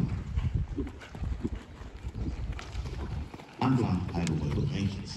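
A horse trots in a dressage test with rhythmic hoof beats on arena footing, heard under a person calling commands, with a louder section near the end.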